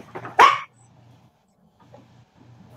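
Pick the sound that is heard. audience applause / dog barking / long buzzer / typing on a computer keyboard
dog barking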